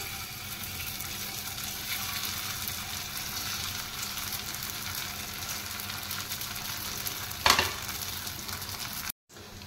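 Egg pakoras frying in hot white oil in a kadai, a steady close crackling sizzle throughout with one brief sharper clatter near the end before it cuts off.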